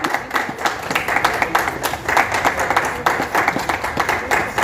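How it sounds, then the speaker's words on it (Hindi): Audience applause in a hotel meeting hall, greeting two leaders called onto the stage in Raigarh: dense, continuous clapping from many hands, steady and moderately loud throughout with no break. "ताली बजती रहनी चाहिए।"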